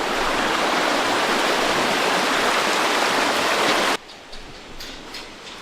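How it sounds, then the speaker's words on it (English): Steady rushing water from a flowing creek fills the first four seconds, loud and close, then cuts to quiet with a few faint knocks. "It's a creek."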